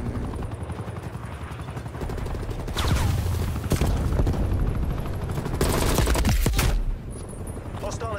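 An attack helicopter roars steadily in a Black Ops Cold War match, with bursts of gunfire and loud surges breaking over the rotor drone, loud and close throughout.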